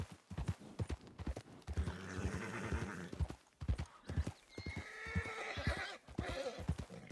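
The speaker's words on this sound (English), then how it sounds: "Don't you start making noise now, because I'll buy a new horse at this rate." In Red Dead Redemption 2 on a Wild RP server, a horse's hooves clip-clop rhythmically up close while it lets out two drawn-out neighs, loud and near.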